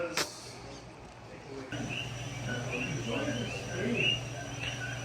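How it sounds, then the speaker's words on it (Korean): Faint, chirpy coqui frog calls repeat in the distance in Hawaii, short rising notes against a quiet outdoor background. "이거는 새소리가 아니고 커키 프럭이라고"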